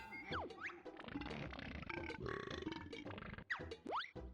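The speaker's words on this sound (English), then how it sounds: "It doesn't just burp, but it farts as well." Creature in the video game Banjo-Kazooie letting out cartoonish burps and gurgling belches, with quick springy swooping effects at the start and end, faint and short.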